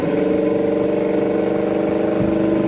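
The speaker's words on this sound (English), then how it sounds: "There's that exhaust again." A 1967 Chevrolet El Camino's exhaust rumbles steadily while driving, a deep continuous engine drone held at an even pitch throughout.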